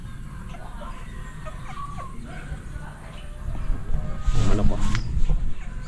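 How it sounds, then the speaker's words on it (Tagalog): Many chickens, including fighting cocks, cluck and squawk amid a busy outdoor background, with a louder burst of fowl noise near the end, and a person speaks briefly. "Daming manok."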